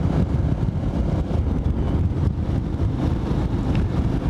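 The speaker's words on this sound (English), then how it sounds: "That wind is still buffety. Still feel its effect on the bike" Wind roars and buffets steadily against the microphone on a moving motorbike, a loud, dense rush that fills the whole stretch with no voice.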